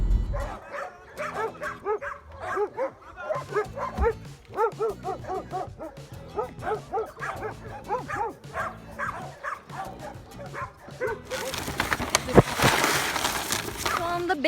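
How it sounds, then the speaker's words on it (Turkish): Several dogs bark and yip outside an animal shelter at a municipal rehabilitation center, with repeated close barks and whimpers throughout and a burst of louder noise near the end. "Ama dışarıda pek çok köpek var."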